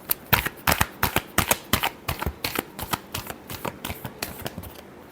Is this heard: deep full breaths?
no